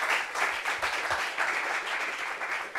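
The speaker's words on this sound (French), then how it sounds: "Applaudissements pour Michel, s'il vous plaît." An audience applauds for Michel at a French-language celebrity parents' gathering, a brief, moderately loud burst of clapping that swells and recedes with no speech.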